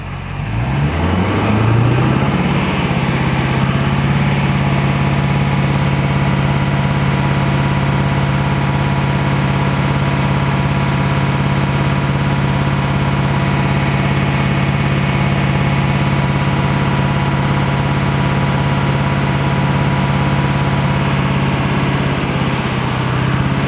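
A 2002 Duramax diesel engine runs steadily near 2,000 RPM after a brief rev at the start, a loud, even, close drone with a low hum throughout and no talking.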